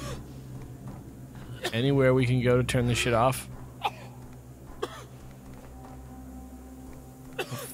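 A Saw II video game character coughs in brief, sharp bursts scattered over a low droning background, after a player speaks loudly.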